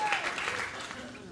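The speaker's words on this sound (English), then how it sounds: "Don't applaud that, Denmarkians." A late-night talk show studio audience breaks into brief applause, a dense burst of clapping that starts loud and tapers slightly over about a second, with a voice talking over it.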